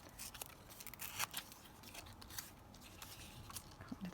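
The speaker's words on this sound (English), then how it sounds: "yeah, let's tear it down about here" Pressed flower paper label torn by hand, a close, continuous papery rip with small crackles running for several seconds, with no voices.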